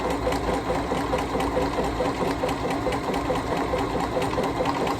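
A Bernina Series 3 sewing machine stitches a buttonhole, its rapid needle chatter running in an even, continuous rhythm, close and fairly loud, with no speech over it.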